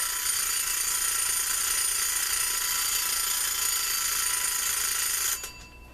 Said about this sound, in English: We're going to do the alarm in real time here.